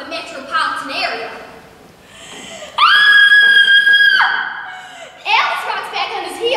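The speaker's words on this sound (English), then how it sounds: "now, I let out the most blood-curdling scream that has ever been heard in the state of Tennessee" A woman's blood-curdling scream, a long, piercing sustained shriek of roughly a second and a half, loud and close, between stretches of a woman's animated storytelling speech before and after.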